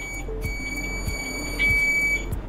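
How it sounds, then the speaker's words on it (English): A steady high electronic beep from a multimeter continuity tester sounds continuously at a faint level, with soft clicks and taps around it. "Next, let's talk about the continuity tester function on the multimeter."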